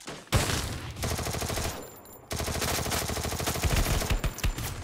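Rapid MP5 submachine gun bursts in a shooting video game, loud and close, firing in dense rattling volleys with a brief pause midway before resuming.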